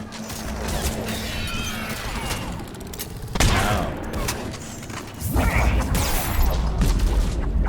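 Enemy gunfire in Mass Effect 3, dense bursts of shots and heavy impacts crackling over a constant battle din, with sharp loud hits breaking through at intervals.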